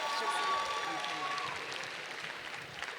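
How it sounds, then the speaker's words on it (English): An audience at a scholars' debate showcase gives applause for community contributors, heard as a diffuse, fairly faint wash of clapping that holds steady and slowly tapers, with a tonal hum in the first half. "scholars, can you please give a huge round of applause for all our community contributors today?"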